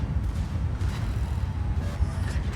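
Secondary guns of an Ipiranga warship firing in World of Warships, a dense, continuous barrage of low booming shots rumbling without pause.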